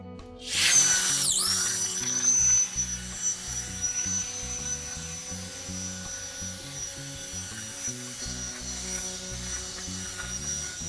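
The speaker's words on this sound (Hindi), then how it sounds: "अब मैं आपको पूरी वॉल अच्छे से सैंडिंग करके दिखा देता हूँ।" A Shakti Technology DS-11 dry wall sander works over wall putty, a steady loud motor whine with a high pitched tone, grinding and rattling as it moves across the surface without pause.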